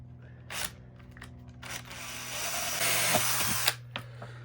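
Power drill boring a hole in the body of a Fiat Ducato van, bursts of whirring motor, one longer steady run of drilling, with short mechanical clicks and taps between the runs, close by and fairly loud.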